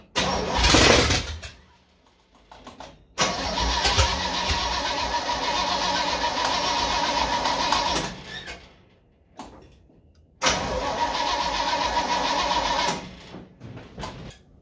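A supercharged car engine cranks on a second start attempt, turning over in two long steady bursts separated by pauses, with a brief crank before them and no talking.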